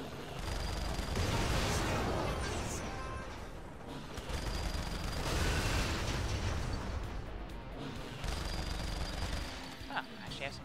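Rocket explosions and heavy gunfire in the video game Saints Row: The Third come as loud, repeated booming bursts in clusters throughout, mixed with players talking.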